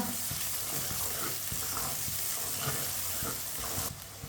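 Crushed ginger and garlic fry in a pan for a vegetable sabzi, giving a steady, close sizzle with soft stirring clicks throughout. No one speaks.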